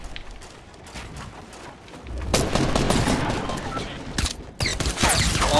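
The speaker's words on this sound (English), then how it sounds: "I'm getting shot at" Gunfire in the Fortnite video game comes in dense, rapid bursts that rise suddenly and hold, with a short break near the end before the shooting resumes.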